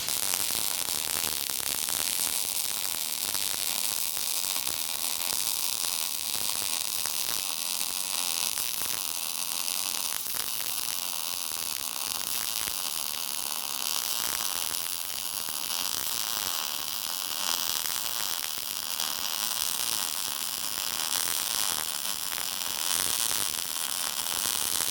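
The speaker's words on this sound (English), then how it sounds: "I'm going to weld down the front" Welding reinforcement onto the lower A-arm mounts of a Cadillac front end produces a steady, loud crackling hiss that runs continuously for the whole stretch without pause, with no voices.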